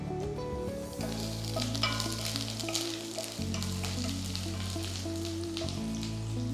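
Chopped garlic and ginger sizzle steadily in hot oil for a Drums of Heaven stir-fry, a dense continuous crackle at close range with steady background music running underneath throughout.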